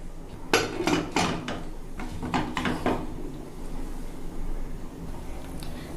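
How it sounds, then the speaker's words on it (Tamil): A few clattering metal knocks and scrapes as a pressure cooker lid is set and fastened while making sambar, with faint kitchen background noise. "இப்போ குக்கரை மூடிக்கலாம்."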